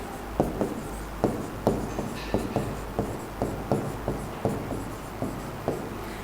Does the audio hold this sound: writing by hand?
yes